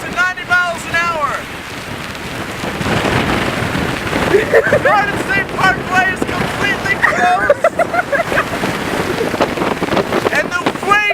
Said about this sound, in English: The winds are really picking up, and it's going to get up to 90 miles an hour.